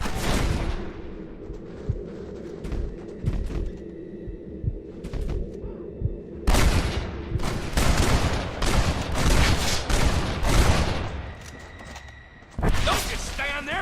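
Gunfight in the western game Red Dead Redemption, repeated close rifle and pistol shots in irregular volleys, some sharp and loud and others farther off, with voices shouting amid the firing.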